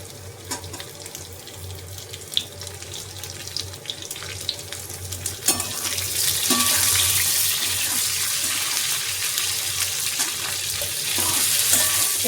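Onions and spices frying in a pan for chili chicken. Steady sizzling with scraping stirs swells sharply about halfway through as the onions go in, then holds a loud, close hiss.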